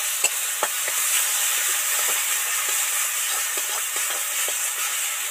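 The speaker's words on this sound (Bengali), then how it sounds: "সামান্য একটু জল ছড়া দেবো, যাতে হলুদ লঙ্কাটা পেঁয়াজের সাথে ভালো করে মিশে ভাজা হয়ে যায়" Onion spiced with turmeric and chili powder sizzles and fries steadily in a pan after a sprinkle of water, with a continuous hiss and occasional stirring scrapes and clicks close by.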